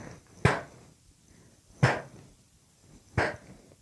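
Three evenly spaced, breathy puffs of air, like someone blowing out birthday candles, are made by a voice imitating the sound for the letter P.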